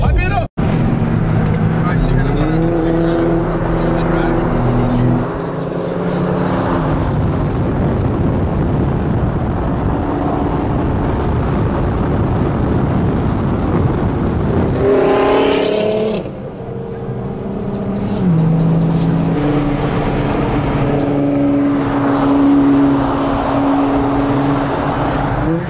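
A large group of Nissan GT-R cars revs and rushes past on a highway, with rising and falling engine whines, loud passing swells and continuous road roar under people talking and shouting.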